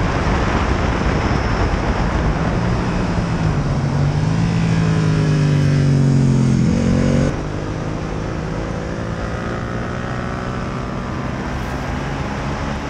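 A Yamaha R7 motorcycle engine races through chicanes and corners in an R7 Cup race, roaring loud and close from onboard with wind rush, pitch sweeping up and down as it shifts, then dropping to a steadier tone.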